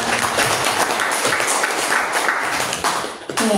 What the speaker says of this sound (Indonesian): Boleh tepuk tangan dong untuk kita semua